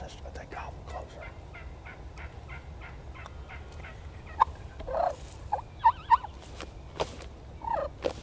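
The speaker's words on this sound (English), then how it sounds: "These other turkeys are coming." Wild Osceola turkeys gobble several times at a distance on opening day of spring season, short rattling bursts over quiet outdoor background, no talk.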